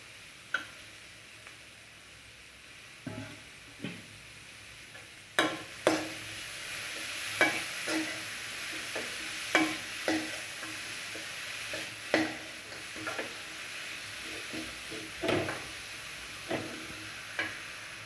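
Grated carrot is stirred into rice in a pan, making repeated scraping clicks of a spoon against the pan over a faint steady sizzle. The strokes come in an uneven rhythm, close and fairly quiet, with no talk.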